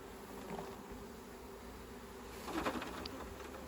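Faint, low buzzing of bees hovering around a swarm trap, a soft continuous drone with a slightly louder burst partway through.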